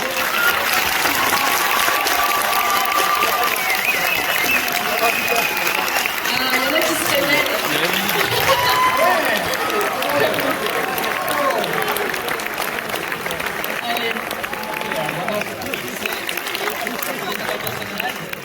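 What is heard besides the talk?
audience applauding cosplayers on stage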